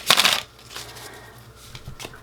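Tarot cards being shuffled by hand give a crisp, close riffling burst at the start, followed by softer intermittent card rustles and taps.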